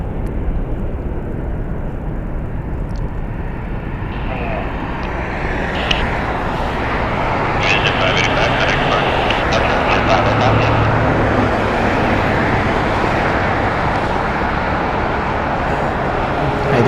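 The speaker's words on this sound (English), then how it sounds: "Probably a Cessna off and north." A Cessna takes off to the north from Las Vegas Harry Reid International Airport, a broad, steady engine rumble that swells slightly midway, heard at a distance against busy airport and traffic noise.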